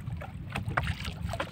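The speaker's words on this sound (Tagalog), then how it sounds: "Hampas-hampas na yung alon. Hangin na eh." Choppy lake water slapping against a small fishing boat at night with wind buffeting the microphone, a steady rumbling roar broken by sharper splashes.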